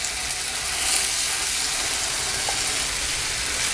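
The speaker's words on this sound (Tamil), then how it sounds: "கடுகு பொரிய ஆரம்பிச்சிருச்சு." Mustard seeds spluttering and crackling in hot oil in a Chettinad kitchen, a steady dense sizzle with fine popping that holds close and even throughout, no voices.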